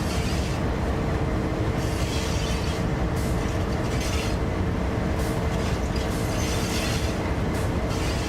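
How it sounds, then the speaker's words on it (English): Trains running in Train Sim World 5 give a loud, steady rolling rumble with rhythmic mechanical clatter throughout, no speech over it. "Trains are looking a little loud on my end."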